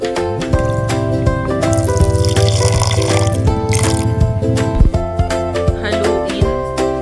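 Two glasses of water are poured into a cooking pot for a Filipino pork estofado with whiskey, a loud steady splashing pour over music that keeps going throughout.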